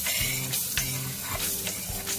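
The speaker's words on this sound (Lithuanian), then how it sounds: "Apkepina morkas." Sliced carrots frying in a pan with mushrooms for a goulash-style stew, a continuous close sizzle with periodic stirring scrapes, steady and fairly loud, no voices.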